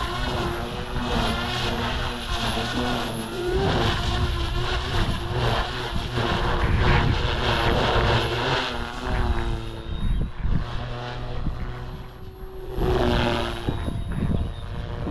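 An OMPHOBBY M4 RC helicopter with a three-blade main rotor spins up, giving a steady, loud mechanical whir and buzz that runs the whole time with slight swells in pitch and volume and no talk over it.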